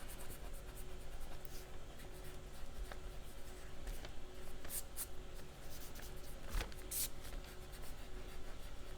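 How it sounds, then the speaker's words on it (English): A pencil eraser rubs over a drawing in soft, scratchy strokes, faint and close, with brief irregular pauses and no talking. "I'm going to erase my mistake here."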